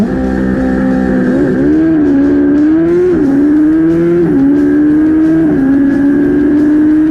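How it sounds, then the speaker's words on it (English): Drag-racing pit bike, a very fast mini bike, accelerates hard down a quarter-mile strip toward over 100 mph. The engine is loud and close, its whine climbing and dropping back at each of several gear shifts, with no talk. "At over 100 miles an hour, that is one fast pit bike."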